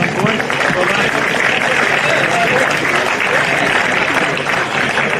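Crowd applause for the match officials at an NPL 2 NSW football grand final medal ceremony, a steady dense wash of clapping and cheering that holds for the whole stretch with voices mixed in.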